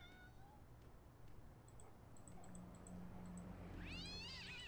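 A kitten meows in the horror video game 2Dark, a series of short rising-and-falling cries near the end over a quiet ambient game background with faint chimes.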